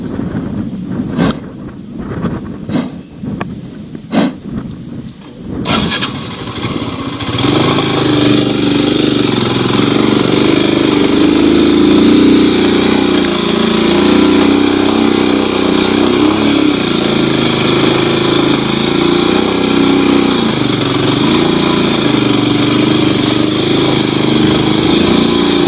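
A Himalayan motorcycle labors up a steep, near-vertical mountain road, first with uneven revving and clattering, then holding a loud, continuous engine drone under load for a long stretch.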